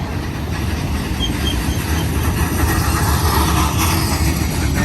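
A BNSF freight train with old boxcars rolls past a site at Cajon, a steady, loud rumble of wheels and cars filling the whole span without pause.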